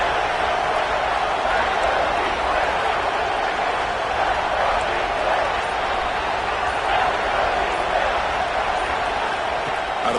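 Dense, steady roar of a football stadium crowd cheering on third down at a Georgia vs Ohio State bowl game, continuous and loud throughout without letup.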